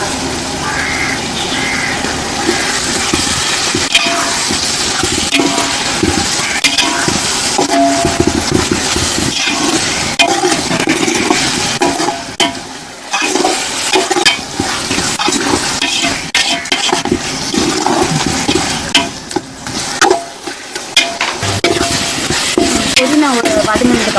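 Mint leaves sizzle and hiss in a hot pan with half-cooked tomatoes for prawn biryani, a loud, close, continuous frying sound broken by repeated scraping and stirring of a spoon against the pan.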